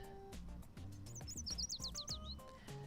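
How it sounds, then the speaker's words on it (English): Birds in the Blue Archive video game chirping: quick rising and falling tweets sound over a quiet, rhythmic musical background with low thumping beats, light and bright, in a short cluster. "The music of birds playing and chirping joyfully."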